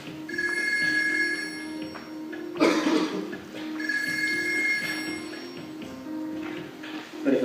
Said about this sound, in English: So if I call my phone, it will pick up the call within about 5 seconds.